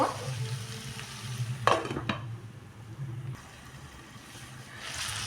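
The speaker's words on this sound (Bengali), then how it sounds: "আমি আবারও নাড়াচাড়া দেবো" Eggplant and potato pieces frying in oil in a pan, stirred with a utensil that scrapes and knocks against the metal a couple of times over a soft, steady sizzle.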